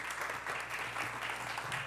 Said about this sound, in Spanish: Quiero que le demos un fuerte aplauso a doña Susana Cáceres.